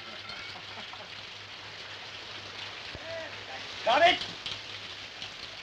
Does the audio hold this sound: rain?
yes